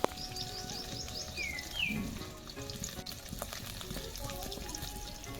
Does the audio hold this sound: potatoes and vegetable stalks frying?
yes